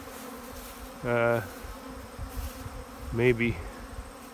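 Two short, loud buzzes from honey bees near a hive pass close by, each lasting about half a second, over a quiet background with a brief soft voice.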